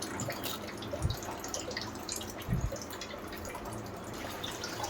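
Soaked pearl millet and moong dal washed in water in a kitchen, with quiet sloshing and a couple of distinct splashy drips over low background hiss.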